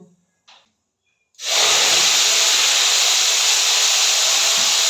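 Onion, ginger and chilli paste hits hot oil in a pan after brief quiet, setting off a loud, steady, close sizzle that hisses on unbroken to the end.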